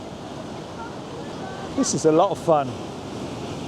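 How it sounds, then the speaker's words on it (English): Ocean waves break along the Cornwall coast in a continuous, fairly near rush of surf under the wind, while someone speaks briefly partway through. "Oh, that's a beautiful wave."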